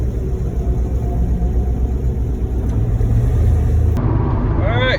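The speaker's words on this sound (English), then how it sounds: "I am back in my Corvette, and I'm driving back home." A Chevrolet Corvette drives along with a steady low engine rumble and road noise heard from inside the car, loud and continuous, with a voice speaking over it.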